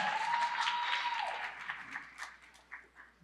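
An audience claps through the hall at a Philadelphia citizen awards ceremony. The steady, dense applause tapers off toward the end into scattered claps.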